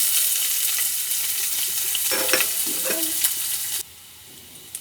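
Onions fry in hot oil with tempering seeds for a bottle gourd curry, giving a steady close sizzle broken by stirring scrapes until the sound drops away near the end.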